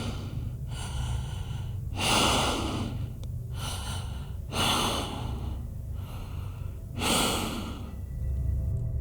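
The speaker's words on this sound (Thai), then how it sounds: "สักครู่ผมก็ได้ยินเสียงหายใจหนักๆกำลังหายใจรดต้นคอของผมอยู่" Heavy breathing in a ghost story, with five slow, loud, close breaths at regular intervals, each a rough, hissing inhale or exhale with quiet pauses between, and no talk.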